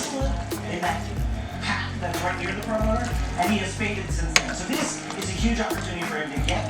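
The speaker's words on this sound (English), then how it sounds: "We're just gonna stir this up." Cabbage and greens with smoked turkey legs being stirred in a pot, a steady sizzling bubble with scraping and clinking of the spoon throughout, close and moderately loud.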